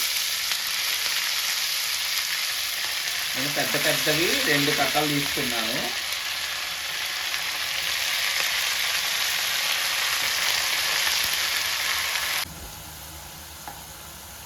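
Washed spinach leaves fry in a hot tempering with curry leaves in a pan, giving a loud continuous sizzle close by. A voice talks briefly partway through, and the sizzle drops suddenly near the end.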